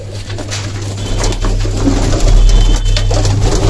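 Low, steady cooing of homing pigeons hums close by, with soft rustling and faint background noise over a few seconds.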